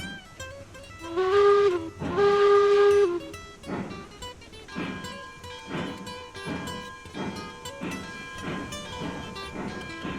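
A train in the Railroads Online game blows two long whistle blasts, then chuffs away in a steady rhythm of puffs and clanks, loud and close with no voices.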